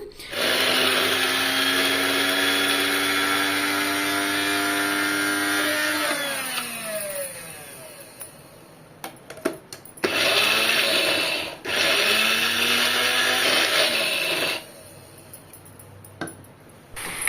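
Kitchen mixer grinder blitzing lentil powder together with spices, a loud whirring motor whine that runs steadily, eases off briefly, then starts again in a few bursts, with no talk.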